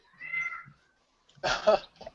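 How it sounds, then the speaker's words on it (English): A house cat meows twice, a soft, drawn-out cry followed after a pause by a louder, sharper meow, close by in a quiet room. "Please go away, cat."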